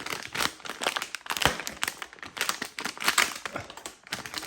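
Plastic packaging on a Jura ENA 4 coffee maker filter being cut and pried open, a steady run of close crinkling, snipping and crackling bursts with no voices.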